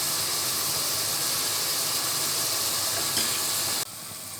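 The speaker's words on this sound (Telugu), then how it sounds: "పేస్ట్ కొట్టిన తర్వాత దాన్ని ఫ్రై చేయాలన్నమాట." Onion paste frying in hot oil, reused oil from frying crab, sizzles in a steady loud hiss that drops off sharply near the end.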